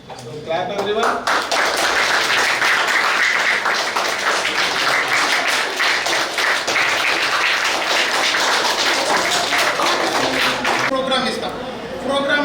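Students at a robotics summer camp launch clap together in a dense, sustained round of applause that swells quickly and holds steady for several seconds before voices return near the end.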